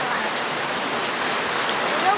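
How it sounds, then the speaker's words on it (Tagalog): Heavy rain pours in a steady, dense hiss that fills the whole clip without pause, close and fairly loud, with no clear voices over it. "Lakas yung ulan, oh."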